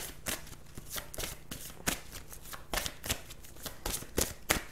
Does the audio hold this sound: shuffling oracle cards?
yes